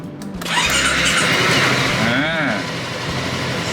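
A car engine cranking and starting with power from a 70mai portable jump starter, a loud close rumble that catches and settles into a steady idle while someone speaks over it.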